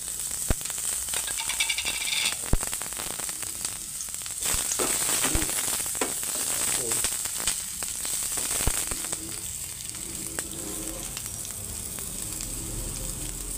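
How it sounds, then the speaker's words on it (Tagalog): Garlic and onion sizzle in hot oil in a pan for tofu soup with malunggay and banana, a constant crackling hiss with scattered pops and rattles, close and moderately loud, with no talking. "Siyempre ilagay natin yung bawang sibuyas."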